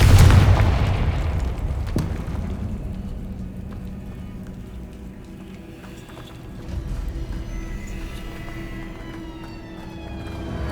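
A Confringo spell explosion in the video game Hogwarts Legacy, a loud booming blast at the start that decays into a rumbling, crackling tail with a smaller swell later, no voices.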